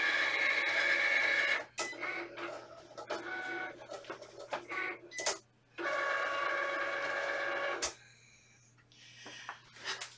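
A Cricut Explore Air cutting machine cuts a calibration square, giving a steady whirring motor tone in two long runs separated by short pauses, with sharp clicks between movements and no speech.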